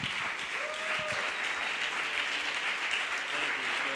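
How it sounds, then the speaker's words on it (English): A conference audience at a startup event's third-anniversary evening in Barcelona gives a standing ovation: dense, sustained clapping fills the room at even loudness throughout, with no voices over it. "can I have, please, a standing applause, standing ovation for Scott Arpajian from Softonic"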